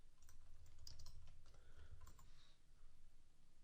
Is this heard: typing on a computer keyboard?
yes